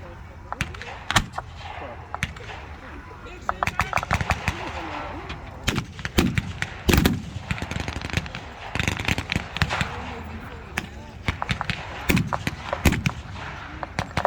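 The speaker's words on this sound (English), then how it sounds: "Two large German half-tracks have come into the field, one of them carrying a big pack gun which is firing on the Allies." Heavy gun fire from a German half-track mounting a large pack gun during a battle reenactment, loud sharp reports and bursts repeating irregularly throughout, over steady outdoor battlefield noise.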